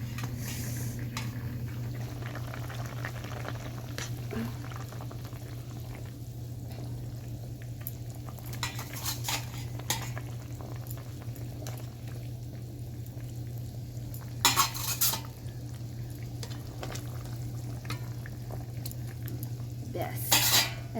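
Eggs go into a simmering potato curry pot, with scattered utensil clinks and stirring scrapes over a steady low hum, a couple of sharper metallic knocks standing out.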